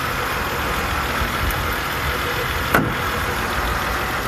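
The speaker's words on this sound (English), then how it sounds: "the motor's running just fine" A 1991 Mercedes 300CE W124 engine idles steadily with an even, continuous hum. A brief sharp click cuts through near the end.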